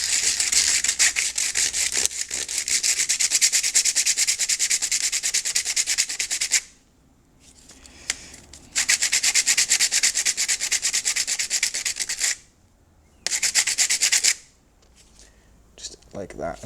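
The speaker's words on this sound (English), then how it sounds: "you also want to just rub these end edges here." Motorcycle brake pad edges are scrubbed with an abrasive in a workshop, giving repeated close, harsh rasping strokes in long bursts separated by brief quiet pauses.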